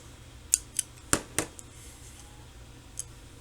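Scissors snip a flap into the bottom of a paper straw, four quick close cuts in a row followed by one fainter snip a moment later, in a quiet room.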